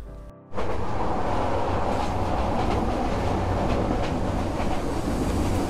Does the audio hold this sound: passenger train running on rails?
yes